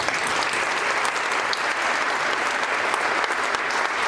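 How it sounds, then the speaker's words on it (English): Audience at the Flint & Genesee Group annual meeting gives a steady, dense round of applause, a close, even wash of many hands clapping that holds at full strength throughout. "Let's give them all a round of applause."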